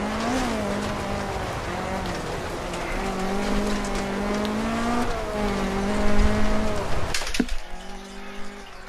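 A rally car's engine drones and revs in DiRT Rally as the tires spin and scrabble for grip, the pitch rising and falling steadily before a sharp cut and a rougher burst near the end.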